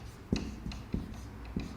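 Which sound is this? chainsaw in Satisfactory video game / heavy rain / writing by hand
writing by hand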